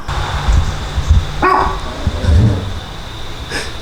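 A dog named Evie barks outside in a yard, several loud sharp barks in an uneven burst, with a nearby engine-bay workshop setting.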